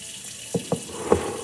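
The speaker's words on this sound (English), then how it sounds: "now I'm just gonna fill up with water" Water runs from a kitchen tap into a pot, a steady rushing stream punctuated by two or three soft clunks, close and alone.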